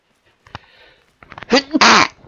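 A person sneezes loudly and close by, a sharp doubled burst near the end, following a faint short sound and brief quiet rustling.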